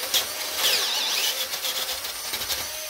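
A power drill bores a 5/8-inch hole through a Dana 60 steering knuckle, giving a steady, loud grinding whine with shifting pitch as the bit bites into the metal, heard close up with no talking.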